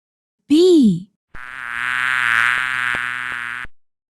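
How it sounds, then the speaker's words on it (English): A bee buzzes in a steady, loud drone lasting a couple of seconds. A short, rising and falling voiced call comes just before it. "Bee."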